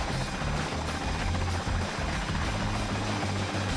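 A video game helicopter thumps with rapid, steady rotor beats and a constant loud engine drone, close and continuous with no talk.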